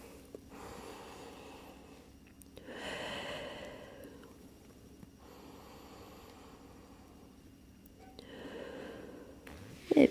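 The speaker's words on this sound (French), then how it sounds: "Donc on prend 2 respirations ici." Slow, deep breaths during a pilates class, three long airy inhale-exhale swells spaced a few seconds apart, close and soft with a faint snort near the end.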